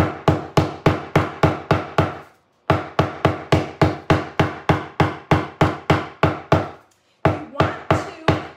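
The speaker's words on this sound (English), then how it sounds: "I'm just taking a trusty hammer." A hammer pounds a hydrangea flower in rapid, evenly spaced loud blows, each a sharp close thud, in two long runs broken by short pauses.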